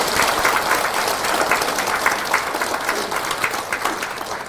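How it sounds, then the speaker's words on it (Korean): An audience at a book concert applauds in a sustained burst of many hands clapping. It stays loud and dense throughout and tapers slightly at the end. "지우 출판사 관계자 여러분께도 박수 좀 보내드립니다."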